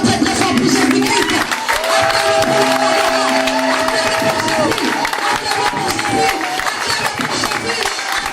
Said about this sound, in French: nous acclamons très très fort pour Jésus-Christ.